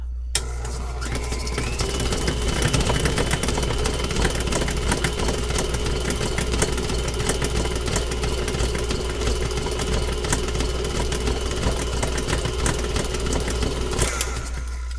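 A KitchenAid stand mixer set around speed 6 beats cheesecake batter smooth with a loud, steady motor whir and a rhythmic beater knock, running close and unbroken for nearly the whole stretch before cutting off at the end.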